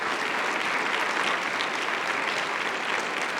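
A church congregation applauds during a Sunday sermon, steady dense clapping that fills the room evenly from start to finish with no voices standing out.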